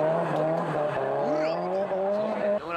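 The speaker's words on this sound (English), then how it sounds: "He races down the S-curve" A drift car runs down the S-curve in a D1 drift competition, engine note climbing and falling steadily with tire squeal riding above it, loud and close throughout.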